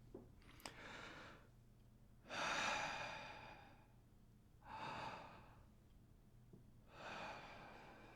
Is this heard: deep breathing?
yes